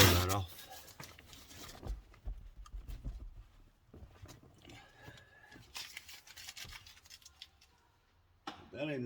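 Protective film being peeled off a Range Rover Sport, faint crinkling and tearing rustles up close during detailing, with soft handling noises and a voice speaking.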